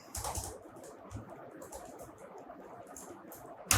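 Typing HTML code on a computer keyboard: soft, close key clicks in a steady patter, with a brief louder clack at the end.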